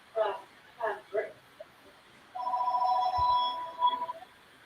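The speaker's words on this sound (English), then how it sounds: "I guess you've got a phone call, or is that me?" A telephone rings in a room with a steady, sustained electronic tone lasting nearly two seconds, after a few short bursts of speech.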